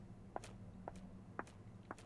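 Footstep samples play back in the FMOD game audio editor, four crisp, evenly spaced steps at a walking pace, dry and fairly quiet over a faint low hum.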